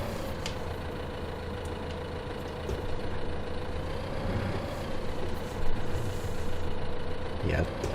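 A small tractor engine in Farming Simulator 2015 drones steadily at an even idle-like pitch with a faint whine, holding close and constant throughout with a slight swell near the end.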